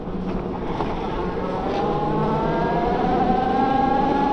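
A Bafang BBSHD mid-drive motor on an Aventon Sinch e-bike, run at high voltage of 75.6V with a Phaserunner V6 controller, gives a loud, steady whine that rises in pitch as it speeds up, with wind rushing past underneath.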